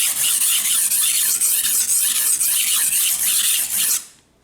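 A knife blade is ground on a grinder to reestablish its bevel, the edge swept from tip to heel, giving a steady, close, bright rasping hiss that pulses slightly with each pass and then stops abruptly.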